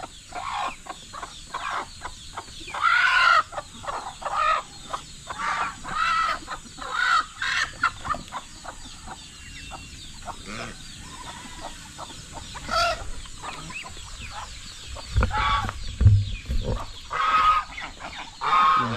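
Chickens cluck and squawk intermittently at moderate distance, with scattered calls over a faint background hum.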